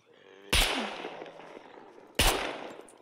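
Two sharp gunshots in a zombie-survival video game, each a loud abrupt crack followed by a decaying rumbling tail, spaced under two seconds apart with no talk.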